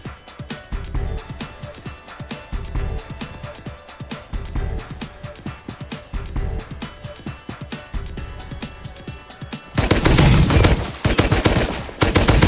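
Gunfire in the survival video game Rust, fired while hunting a crocodile: repeated rhythmic volleys of rapid shots in clustered bursts, fairly loud and close, ending in a louder, noisier stretch of sustained fire.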